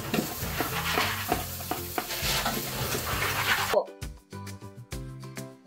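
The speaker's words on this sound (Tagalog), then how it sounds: "Lalagyan natin ang bawang" Garlic sizzles loudly in hot oil in a pan while a utensil scrapes and stirs it. The frying cuts off suddenly partway through, leaving a few sharp clinks and knocks.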